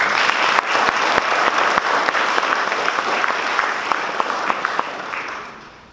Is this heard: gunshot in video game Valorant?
no